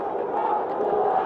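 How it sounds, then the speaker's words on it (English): Big crowd at a cricket stadium for the men's under-19 Asia Cup final between Bangladesh and India, a steady dense murmur of many voices with faint cheers, continuous and moderately loud throughout. "big crowd here already to enjoy and be entertained by this tussle in the middle"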